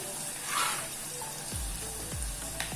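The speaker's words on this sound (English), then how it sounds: "You can fry it just little like we do for upma, or fry it till it becomes brown." Food fries in a pan with a soft, steady sizzle while a utensil stirs it, producing a few low scraping sweeps near the end; quiet and close.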